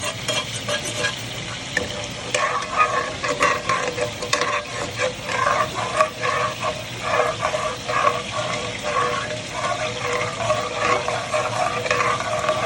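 Spoon scraping and stirring sausage bits off the side of a gumbo pot, a steady run of scratchy scrapes over a soft, continuous sizzle, close and fairly loud with no talking.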